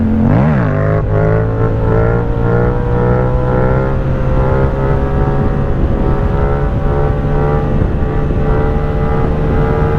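A faulty Yamaha MT-07 motorcycle engine roars loudly and close up during a wheelie attempt, climbing sharply at first and then holding a steady, high droning pitch under wind noise, with no talking.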